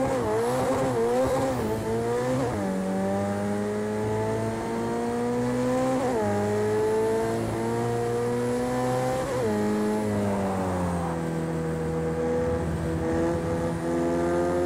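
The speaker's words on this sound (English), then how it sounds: "let's, uh, go ahead and, and fire up this McLaren" A McLaren race car tears around the Nürburgring in a VR racing video game, its engine note climbing through repeated upshifts with brief drops between gears, loud and steady with faint tire squeal and no voices.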